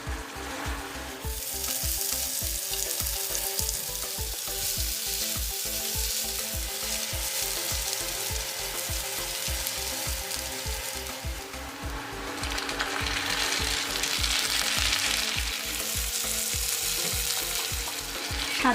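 Chopped onions sizzle and fry in a pan with cinnamon, cloves and already-fried potatoes for an egg curry. The frying is steady and close, with a regular stirring scrape running through it and no talk.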